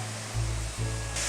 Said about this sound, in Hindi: हाई फ्लेम पर ही हम आलू फ्राई करेंगे